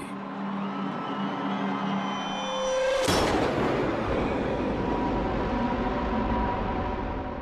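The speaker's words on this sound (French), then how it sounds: "Soudain, on a entendu des coups de feu." A single sharp, loud gunshot bursts out at the Vatican over a low droning background, then its noisy echo slowly fades away.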